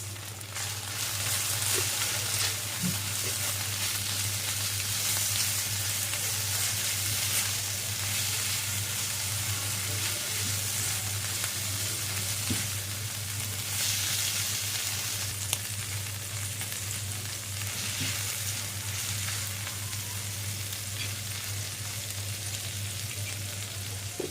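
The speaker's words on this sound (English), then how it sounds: "I'm going to put this in and give it a mix." Fries with crushed red chilies and red chili powder are stirred in a hot pan, giving a steady close sizzle with scraping and tossing sounds and occasional light knocks throughout, with no voices.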